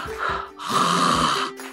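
A snoring sound in a children's story about a snoring dog, probably imitated by a voice: a few loud, rasping inhaled snores with short pauses between them.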